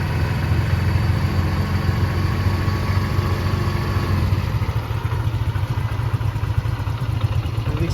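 A Yamaha Mio Soul i scooter engine with a check-engine fault runs at a steady idle, a close, constant low rumble and clatter with no speech.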